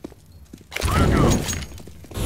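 A Molotov cocktail's glass bottle shatters in Counter-Strike: Global Offensive: one sudden, loud crash after a brief quiet moment, followed by a trailing crackle that fades out.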